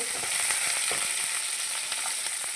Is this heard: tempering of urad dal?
yes